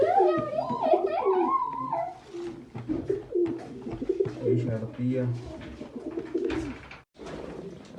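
Pigeons coo repeatedly in soft, throaty warbles close by, with someone talking over and between the calls.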